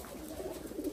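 Domestic pigeon cooing at a pigeon-catching contest, a brief low throaty coo heard up close with no talk.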